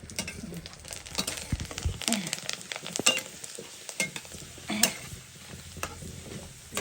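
Festive snacks frying in hot oil for Makar Sankranti, with a steady crackling sizzle and intermittent stirring scrapes and clinks of a utensil against the pan, close and continuous.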